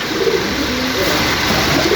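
A pigeon being shown for sale coos in low, soft phrases over a steady hiss of background noise.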